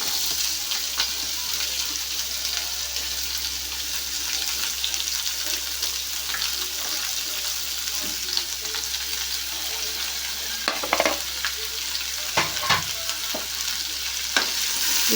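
Chopped ivy gourd and tomato fry over a medium flame in a pan, with a steady close sizzle throughout and occasional scraping knocks of a spoon stirring the pieces.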